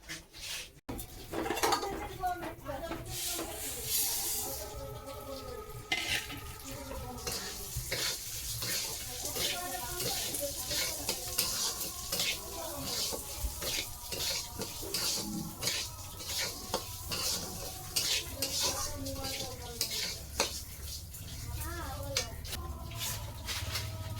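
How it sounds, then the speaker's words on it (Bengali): Lentils being fried in a pan for dal, with a long run of clattering utensils, scraping and clinking pots over a faint sizzle, and brief running water now and then. "ডালটাকে ভালো করে ভাজবো লাল লাল করে।"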